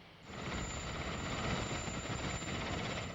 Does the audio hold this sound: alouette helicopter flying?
yes